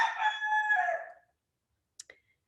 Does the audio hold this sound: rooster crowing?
yes